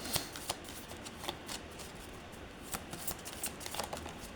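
A deck of tarot cards is shuffled by hand close up, a soft continuous riffling patter with crisp flicks and slaps repeating over a few seconds.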